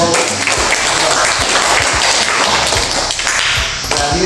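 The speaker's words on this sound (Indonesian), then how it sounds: "tepuk tangan dulu untuk" Dense, steady applause from a classroom of students fills the room for over four seconds, many hands clapping at once with a few louder individual claps standing out near the microphone.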